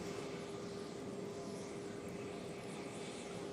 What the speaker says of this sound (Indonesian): pesawat yang membawa rombongan Paus Fransiskus sudah tiba di Jakarta